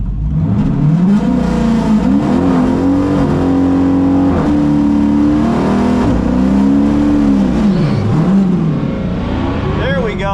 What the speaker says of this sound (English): I got a good burnout in.